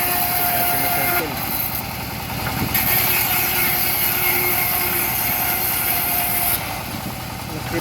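A homemade engine-driven saw rig for cutting teak beams runs with a steady mechanical drone and rattling, clattering pulses, fairly loud and close, while people talk over it.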